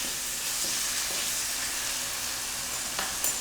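Salmon fillets sizzling in a hot pan just after being flipped for a Tuscan salmon dish, a steady, bright frying hiss with faint crackles, close and continuous.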